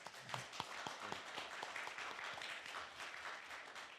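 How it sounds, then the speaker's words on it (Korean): An audience gives a final round of applause after an engineering lecture in a hall, with dense, steady clapping that carries on for the whole stretch at a moderate distance. "큰 박수 한번 마지막으로"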